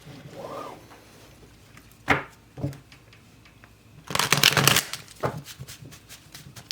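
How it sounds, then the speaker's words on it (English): Tarot cards are shuffled by hand at close range, giving a sharp riffle near two seconds and a denser, louder burst of flicking and rustling around the four-to-five-second mark, with quieter handling in between and no talk. "So let's pull some cards to get."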